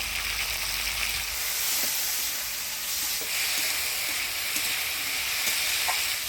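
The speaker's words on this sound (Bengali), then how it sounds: "পেঁয়াজ কাঁচা লঙ্কা থেঁতো করা রসুন দিয়ে কাটলে বিচি আলু দিয়ে ভালো করে ভাজা ভাজা করে নিলাম" Onion, green chili, crushed garlic and potato sizzle steadily in a pan for a mild curry with dried fish, a constant close hiss of frying with a few faint stirring clicks and no talk.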